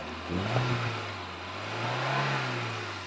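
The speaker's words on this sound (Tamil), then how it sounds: "இது வண்டி ஓடிட்டு தான் இருக்குது" A Wagon R car engine hums steadily at a low pitch, rising slightly in revs and settling again, fairly quiet and continuous.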